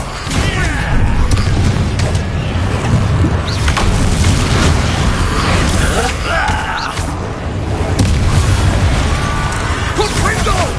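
Confringo fire-blast spell explosions in Hogwarts Legacy combat, loud booming bursts with crackling debris over a dense, busy mix of combat noise.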